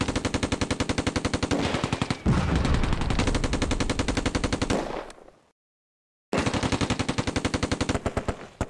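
Rapid machine-gun bursts of support fire ring out in the WWII strategy game Close Combat: A Bridge Too Far, loud and rhythmic, with denser overlapping gunfire midway, a brief full silence, then steady bursts again.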